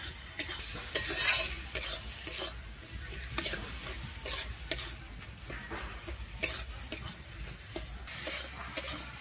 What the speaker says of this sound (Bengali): আমি চাল মগজ পোস্ত বাটাটা দিয়ে কিন্তু এখানে নাড়তে থাকবো